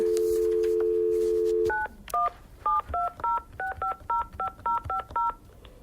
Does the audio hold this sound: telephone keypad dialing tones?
yes